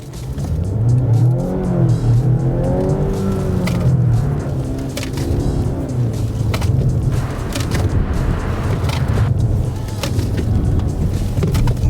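A 2025 Mazda CX-60 SUV with a new suspension setup accelerates hard through a slalom, its engine revving loudly and steadily up and down with rising and falling pitch, close and continuous throughout.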